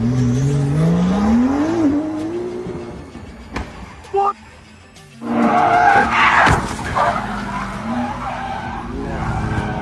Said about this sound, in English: A BMW crashed into the sidewalk and flipped over after attempting to drift on the road.